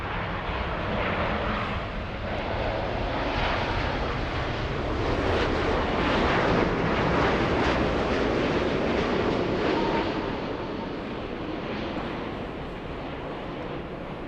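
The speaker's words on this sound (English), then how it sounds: "Japan Airlines 60 flying in from Osaka, Japan, arriving almost on time, 10 minutes early." Japan Airlines jet from Osaka landing at LAX, a broad, steady engine roar with wind-like rush that builds to a peak midway and then eases slightly, no voices over it.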